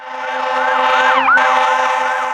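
A loud wailing emergency siren rises and falls repeatedly during a wildfire response, joined midway by a second siren sweeping through, with a low engine drone beneath.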